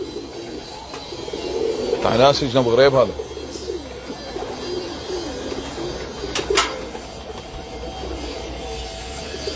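Soft, repeated cooing of pigeons in bursts, with someone talking over them and a faint background hum.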